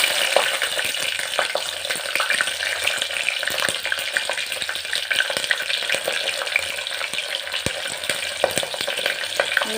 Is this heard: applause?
no